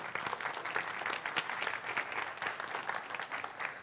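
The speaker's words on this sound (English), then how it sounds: "let's give Julia a very big round of applause for being so brave" Audience applause at a family science show, a dense, continuous round of clapping filling the whole short stretch at moderate loudness.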